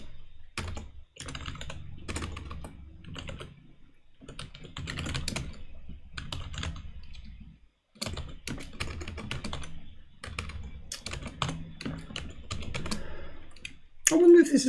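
Continuous computer keyboard typing of code during a live programming session on an ARM disassembler, with steady clattering keystrokes in bursts and brief pauses, close and fairly loud throughout.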